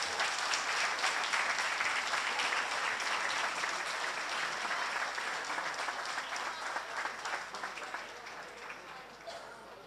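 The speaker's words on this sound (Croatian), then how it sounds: "molim vas da ih nagradimo jednim velikim, velikim pljeskom" A large audience applauds steadily at a Slavonian folk ensemble concert in Čepin, dense sustained clapping that stays loud throughout and tapers slightly near the end.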